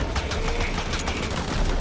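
Rapid machine gun fire from a gunner's emplacement in the video game Shadow of the Tomb Raider, a dense continuous clatter of shots with steady loud rattling throughout.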